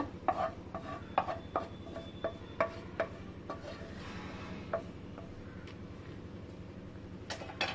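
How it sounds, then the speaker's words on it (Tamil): A ladle stirs a warm mixture for a sweet dough, giving a series of soft irregular scraping clicks and taps against the pot, close and quiet over low background hum. "நம்ம ஏதாவது கரண்டி வச்சு கலந்து விட்டுக்கோங்க"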